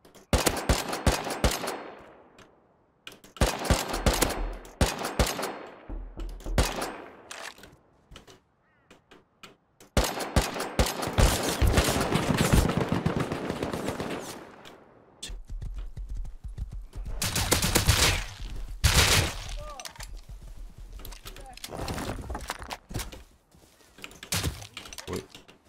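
Gunfire in the video game Rust, repeated bursts of rapid automatic shots broken by short pauses, loud and close throughout.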